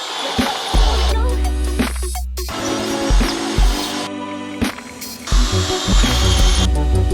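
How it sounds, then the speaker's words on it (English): Cordless drill boring holes into a narrowboat, loud close whirring bursts that start and stop repeatedly with changing pitch as the bit bites, separated by brief pauses. "Professional hole borer."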